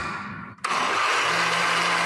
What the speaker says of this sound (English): He's got a lemon and just put it into the blender.